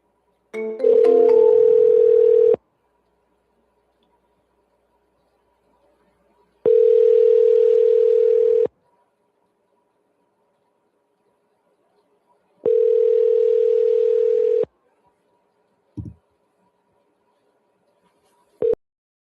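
Telephone ringback tones during an outbound sales call, three long steady tones about two seconds each separated by silent gaps, loud and clean, followed by a couple of brief clicks.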